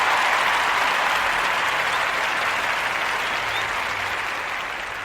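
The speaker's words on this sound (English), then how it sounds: "Get a round of applause for that" Sustained applause from a live audience, loud and steady throughout with a slight fade toward the end, no talking over it.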